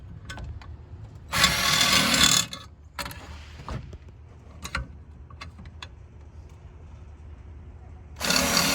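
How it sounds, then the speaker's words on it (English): A power drill bores holes in a homemade wooden spacer for a truck tool box. Two short, harsh drilling bursts stand out, with quieter handling and tool clatter between them. "I drill these holes big enough to fit down in there"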